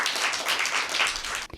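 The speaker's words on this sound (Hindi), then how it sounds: "अनाइजा के लिए भरपूर तालियां बजाएं।" Studio audience of children applauding a child who answered a quiz question correctly on a Christmas special children's show; a brief burst of dense, steady clapping that cuts off abruptly near the end.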